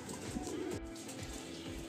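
A Face of Beauty pigeon, a Madrasi variety, coos in a loft with a steady low murmur of cooing and light background noise throughout.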